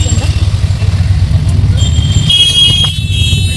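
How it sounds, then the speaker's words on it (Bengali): Inside an auto rickshaw in rainy city traffic, a steady low engine and road rumble continues throughout, with brief car horn toots sounding near the end. "অটো উঠে গেছি আমরা।"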